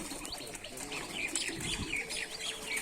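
Several pigeons lined up on a rooftop in Rajshahi coo and chirp continuously, their calls overlapping at close range with occasional wing rustles.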